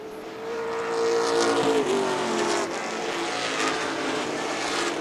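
Pro Stock race cars lap a speedway, engines droning with a rising then falling pitch as one passes, continuous and moderately loud from the stands.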